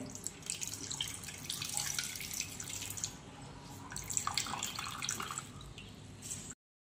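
Water drains and drips from washed chhena (milk curds set with lemon juice) in a kitchen, a soft, continuous trickle and patter nearby that stops abruptly at the end.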